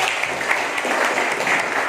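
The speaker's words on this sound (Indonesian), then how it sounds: "Sekali lagi kita beri tepuk tangan untuk teman-teman." A class applauding fellow students in a chemistry lesson, a short, steady wash of many hands clapping together at an even level.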